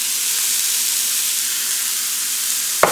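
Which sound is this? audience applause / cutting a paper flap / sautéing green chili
sautéing green chili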